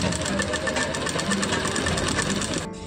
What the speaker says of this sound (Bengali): তারপরে ঠিক এইভাবে ভাঁজ করে নেব এবং এর উপর দিয়ে সেলাই চালিয়ে নেব।